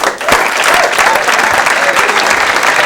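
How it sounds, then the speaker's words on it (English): Comedy club audience in 1987 giving a comedian a warm welcome, a loud, steady burst of close clapping filling the room with scattered cheers. "Please, a nice round of applause, Mr. Bill Braudis."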